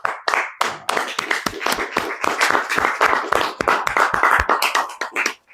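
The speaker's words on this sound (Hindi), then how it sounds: "एक तो देख के ताली बजा रहे हो या समझ में आया वाक्य में ताली बजा रहे हो" An audience in a lecture hall claps steadily for several seconds, a dense, close patter of many hands with no talking.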